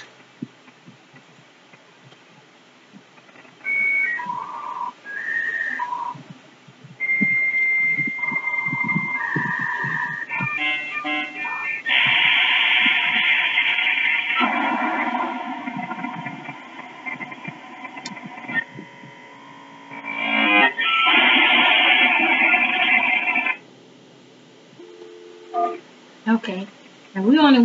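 Dial-up modem handshake over a telephone line: a dial tone and touch-tone beeps, then shifting squeals, warbles and bursts of hissing static, loud and clear through a small speaker, with brief quiet gaps.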